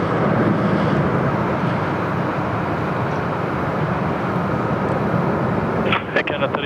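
Airliner taking off at Sydney Airport, a steady loud engine roar held throughout as it climbs out, with a burst of other sounds or voices near the end.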